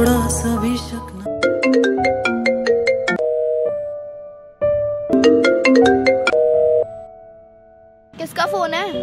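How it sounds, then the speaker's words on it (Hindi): A phone ringtone plays a bright, chiming melody in two loud bursts separated by a short pause, with background talk and music at the start and end. "किसका फोन है यार?"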